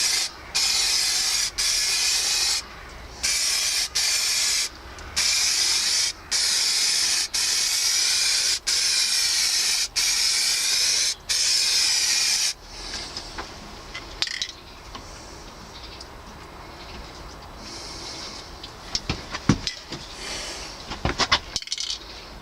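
Aerosol paint sprayed onto a motorcycle oil cooler cover in a series of short, loud, hissing bursts with brief gaps between them, followed by quieter handling clatter and a few sharp knocks.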